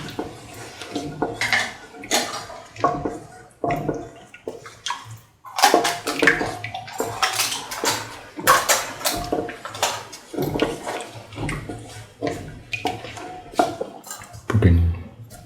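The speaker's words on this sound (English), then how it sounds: "Thoroughly mix all the ingredients" Sweet coconut milk pasta ingredients are stirred together in a pan, with close, irregular scraping and clinking of a utensil against the pan and wet, sloshing sounds.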